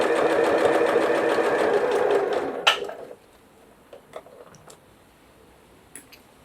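A sewing machine runs in a steady, fast whirring stitch for nearly three seconds while sewing a bias-cut zipper pouch, then stops with a sharp clack, followed by a few faint ticks and handling clicks.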